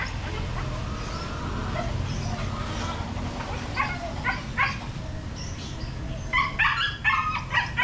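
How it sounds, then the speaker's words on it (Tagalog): Several dogs barking and yipping at a distance over steady wind noise, the barks growing more frequent toward the end. "Ingay ng aso."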